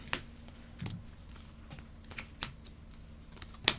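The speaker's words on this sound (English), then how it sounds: "I think I'm discarding these cards. And then we'll draw up." Cards being discarded and drawn in the Heat board game: soft scattered slaps and flicks of card stock on a table, quiet and close, with a sharper snap at the end.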